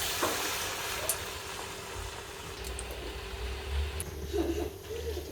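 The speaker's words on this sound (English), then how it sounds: "I'm going to heat up the oil to deep fry the manchurians" Manchurian balls deep fry in hot oil over a low flame with a soft, steady sizzle. A few faint clinks and stirring sounds break the even hiss.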